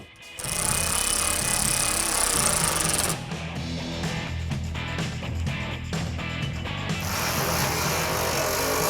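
A ratchet snugs up fender bolts on a car, clicking rapidly in a dense, loud mechanical burst. The sound shifts and continues in rough, uneven bursts close to the listener.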